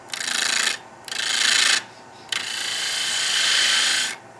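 A woodturning lathe tool takes light cuts on end grain, giving three loud, steady rasping bursts: two short ones, then a long sustained pass, with brief quiet gaps between them.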